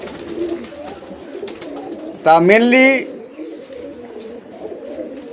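Giribaz pigeons, a flying homing breed, coo in one loud, close burst lasting under a second, set against steady background murmur and someone talking quietly.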